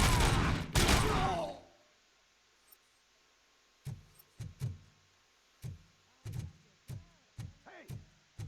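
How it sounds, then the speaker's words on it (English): In the game Robocop: Rogue City, after a loud burst, a series of separate thudding shots rings out at irregular intervals, about a dozen in all, fairly distant and echoing. "Hey, am I hearing gunshots?"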